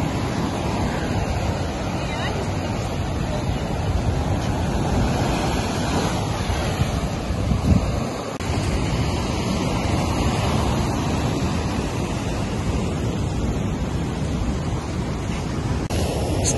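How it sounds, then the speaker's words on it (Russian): Stormy sea surf pounding the Odessa coast near the Arcadia slabs, a loud continuous roar of breaking waves with heavy wind buffeting the microphone. "О, здесь штормит."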